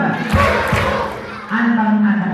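Two sharp, quick claps ring out from a big crowd of children gathered in a mosque, followed by their loud chanting voices.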